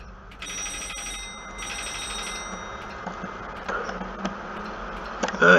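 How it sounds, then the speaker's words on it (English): A telephone ringing in the horror game Office Paradox, two bursts of rapid electronic bell trills early on, followed by scattered clicks and faint background noise. "Here's a telephone."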